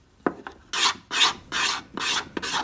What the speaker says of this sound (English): Final surface finishing is done with a cabinet scraper.